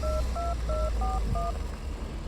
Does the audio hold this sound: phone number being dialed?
yes